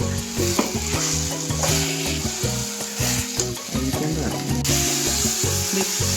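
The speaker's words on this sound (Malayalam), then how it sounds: "അരപ്പ് ഒഴിക്കുക." Loud sizzling and frying in a hot pan as ground masala paste is poured in for dried prawn theeyal, with rhythmic scraping and stirring knocks throughout.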